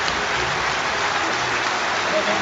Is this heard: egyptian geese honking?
no